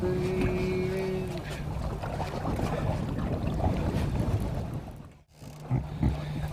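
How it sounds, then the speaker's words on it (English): A charter fishing boat moves at sea in Luce Bay, with a steady broadband wash of hull, water and engine rumble running continuously, briefly cut off near the end before resuming. "A little bit of movement. We are sailing."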